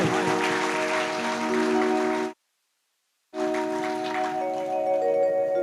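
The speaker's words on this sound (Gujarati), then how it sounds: "હવે બધા તાળી પાડો" An audience claps together at a comic Gujarati talk, a dense, steady patter of many hands that stops abruptly, leaves a second of silence, then resumes.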